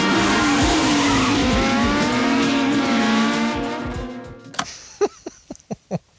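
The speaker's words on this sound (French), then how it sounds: "une voiture absolument mythique, qui est la 306 Maxi, qui a un son, une sonorité extraordinaire" Peugeot 306 Maxi rally car roaring close by in a film scene, a loud sustained engine note that fades, followed by a string of sharp pops and bangs.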